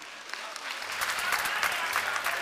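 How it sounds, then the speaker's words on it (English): Crowd applauding contestants at the Ghana's Most Beautiful 2023 pageant grand finale, a faint, steady patter of clapping from a large audience that swells slightly after the first second. "Please clap for them."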